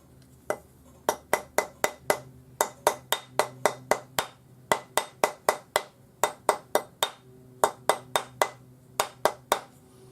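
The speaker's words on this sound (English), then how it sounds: "Slip it on a ring mandrel. Use your rawhide hammer to round it up." A rawhide hammer strikes a metal ring on a ring mandrel in quick bursts of sharp, ringing taps, about thirty blows in rhythmic clusters with short pauses, close and clear.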